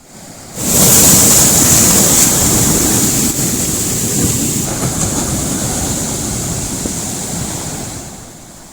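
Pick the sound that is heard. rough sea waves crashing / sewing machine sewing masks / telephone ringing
rough sea waves crashing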